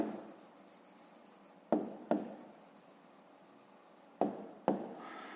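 A pen scratches softly on paper while an answer to a fifth-grade maths exercise is written down, broken by four sharp taps, quiet and close, with no talking.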